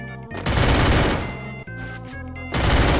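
Rapid automatic gunfire from a shooting video game, loud and dense in three sustained bursts separated by brief dips, with no talking.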